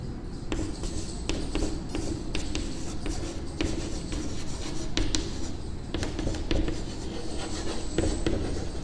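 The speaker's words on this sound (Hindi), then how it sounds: "यहाँ पे मैं लिख रहा हूँ" Marker or chalk strokes on a classroom board as Class 9 lines-and-angles notes are written, repeated short taps and scrapes in an irregular rhythm over a steady roomy hum.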